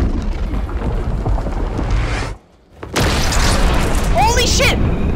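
A missile launch explodes in the Fortnite video game, a loud booming blast that drops briefly into near silence and then returns as a sustained roar with whooshing, while a player shouts over it.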